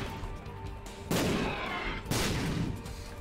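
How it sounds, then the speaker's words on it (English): Two heavy bomb blasts in The Binding of Isaac: Repentance, each a loud, broad burst that decays into a rumbling crackle, arriving about a second apart. "Great bomb."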